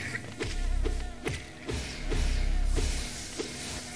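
Old cursed flies in the video game Hollow Knight give off a droning, pulsing buzz that swells and fades in waves over soft game music and thuds, moderately loud, with no voices.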